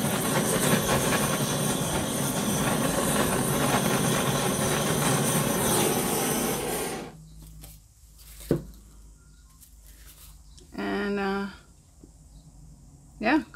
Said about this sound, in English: Give it a quick torch.